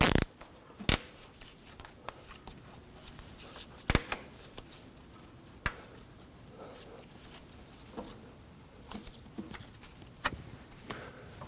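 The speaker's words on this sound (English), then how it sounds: "Make sure to trim off the excess of your cable tie" Sharp snips of a cable tie tail being trimmed off on a Subaru XV Crosstrek inner tie rod bellows boot, a few isolated crisp clicks spaced apart amid quiet handling noise.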